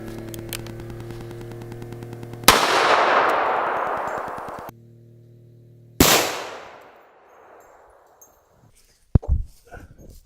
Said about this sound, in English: We're gonna shoot a log today.